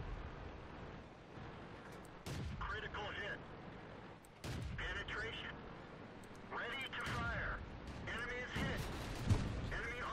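A tank's main gun fires in the World of Tanks game, a Type 1 Chi-He on an arctic map, with several sharp booming shots ringing out over a rumbling engine and battle noise while someone talks.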